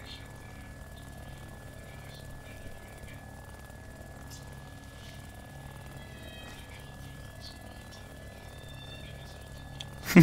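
A Merlin helicopter in a military video game, its steady rotor drone and engine whine running throughout at moderate level, with a faint tone and occasional ticks.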